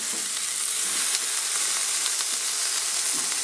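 A Chefree AFG01 smokeless grill and air fryer cooking food with a steady, bright sizzle and hiss, close and continuous, with no voices.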